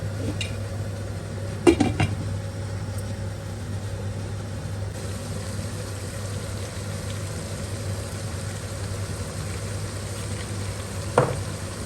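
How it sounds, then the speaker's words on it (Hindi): Minced keema cooks over a medium flame with a low, continuous frying hiss and a steady hum, while a couple of brief pot-and-utensil clanks land early and one near the end. "अब इसे कवर करेंगे मीडियम फ्लेम के ऊपर से हमने कुक करना है कीमे।"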